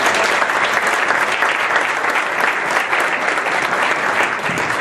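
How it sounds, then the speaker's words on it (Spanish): An audience at a history lecture gives a guest speaker loud, sustained applause, with dense, steady clapping close by that carries on for several seconds without any talk. "para la cual pido un fuerte aplauso"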